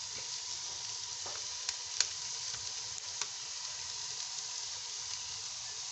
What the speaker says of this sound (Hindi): इसमें मटर डालूँगी